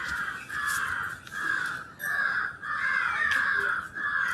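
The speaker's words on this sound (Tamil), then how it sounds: "காக்காக்கு வச்சுட்டேன் சாப்பிடுது" A crow fed with food outdoors gives a run of repeated, harsh caws, steady and fairly loud, over a continuous background hiss.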